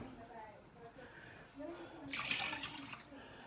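Water poured onto lentils in a Remoska cooker, a faint hiss and splash that swells into a brighter rushing pour about halfway through, with quiet talk in the background.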